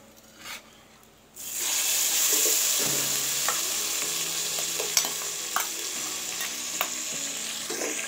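Ginger, garlic and onion paste frying in hot oil, with a steady bright sizzle that starts suddenly and holds, plus occasional stirring clinks and scrapes up close.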